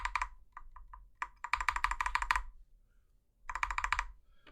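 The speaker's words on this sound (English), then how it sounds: "The stabilized key sounds pretty good, I have to say." A stabilized key on an FL-CMMK MK870 mechanical keyboard fitted with EnjoyPBT ABS doubleshot keycaps is pressed repeatedly, giving crisp close-up clacks in quick bursts separated by short pauses.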